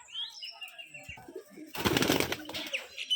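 Rajshahi giribaz pigeons at a pigeon farm give a few soft close calls, then a sudden burst of flapping wings rises loudly before tapering into quieter rustling.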